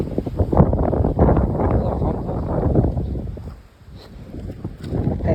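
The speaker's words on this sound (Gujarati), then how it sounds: "પવન જ છે ભાઈ" Steady wind buffets the microphone in low rumbling gusts, blowing dust, easing briefly near the end, with faint voices underneath.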